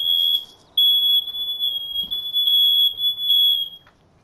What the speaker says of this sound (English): that's my smoke detector going off randomly